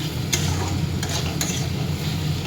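Mustard paste frying in a pan and stirred around, a steady sizzle with a few sharp scraping clicks of the spatula, close and alone.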